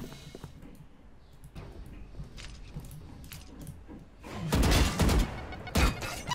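Gunfire in the tactical shooter Valorant, a few faint clicks and shots early on, then a loud rapid burst of shots near the end, close and sharp over background game noise.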